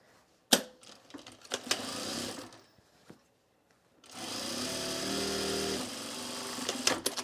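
A sewing machine stitches fabric flat for a neck warmer sample in a steady whirring run of about two seconds after some handling knocks and rustling, close and moderately loud, with no talk.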